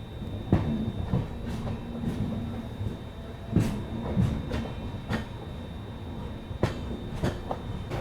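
The Azamgarh LTT Mumbai Superfast Express rolls slowly over a bridge across the Tamsa river at night, heard from inside the coach as a low rumble with irregular clanks and clacks from the wheels.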